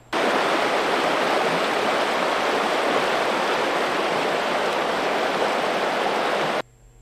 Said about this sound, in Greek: Ο Κερίτης φούσκωσε ξανά μετά τις καταρακτώδεις βροχές που σημειώθηκαν τα ξημερώματα στα Χανιά